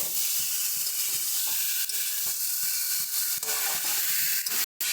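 Fried broccoli mixed with spices and stirred in a pan, a steady loud sizzle with repeated soft scraping strokes of the spoon throughout, ending in a brief dropout.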